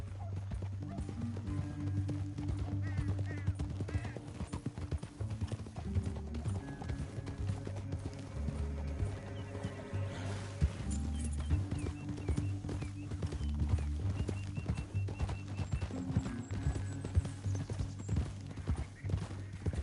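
Horses clip-clopping along at a steady gallop, the hoofbeats close and continuous over a low rumble, with an occasional neigh.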